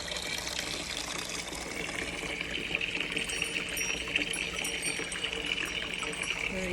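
Water trickling steadily from an angel garden fountain, a continuous soft splashing flow at moderate distance with faint tinkling accents above it.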